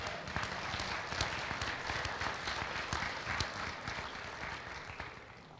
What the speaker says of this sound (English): How about a round of applause for me?